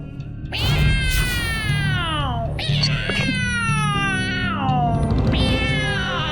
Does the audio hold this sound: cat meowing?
yes